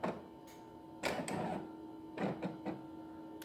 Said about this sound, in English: it says cutting. And your machine will go ahead and start to do what it is